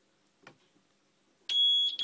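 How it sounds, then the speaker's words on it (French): Sudden loud fire alarm sirens from a Nugelec ECA 3000 fire alarm panel under test blare after a quiet pause with a few faint clicks, shrill and steady, briefly dipping before continuing. "Et les sirènes se mettent en route."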